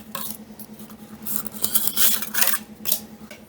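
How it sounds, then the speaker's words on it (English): Small paper bun cases are placed into cooled metal baking trays, with light rustles, scrapes and soft metallic clinks in an irregular close-up rhythm and no speech. "these trays have cooled down enough for me to get the wee papers in"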